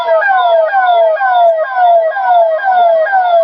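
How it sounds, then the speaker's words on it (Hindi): Air raid siren sounding for a civil defence mock drill at MECON Limited in Ranchi, a loud, continuous wail with steady repeating downward sweeps, close and alone. "इस तरीके से आप देखिए सायरन बज रहा है।"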